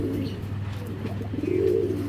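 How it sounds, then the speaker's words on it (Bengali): A pair of Giribaz pigeons coo close by in a loft, low throaty rolling calls repeating over a short stretch. "চলুন দেখাই কবুতর দুইটা"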